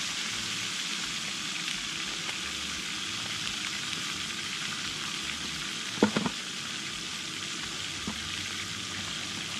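Catfish fries in a pan outdoors as dusk falls, giving a steady, dense sizzle throughout with a couple of brief clicks or utensil touches near the middle.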